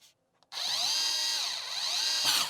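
An electric screwdriver drives screws to fix the cover of a Yeastar P-Series PBX unit, a loud, steady whine that starts after a brief click and runs continuously to the end.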